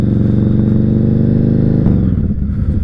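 A Yamaha Raider motorcycle engine rumbles loud and close while riding, a steady low throbbing drone that shifts pitch near the end as the rider changes speed.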